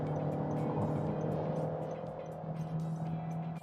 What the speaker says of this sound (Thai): นั่นคือเสียงเครื่องน่ะ